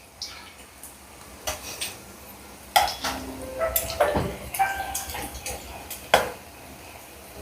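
Chicken samosas are turned over in a frying pan: a run of close metallic clinks and scrapes of a utensil against the pan, spaced irregularly over a faint sizzle, with a few sharper knocks standing out.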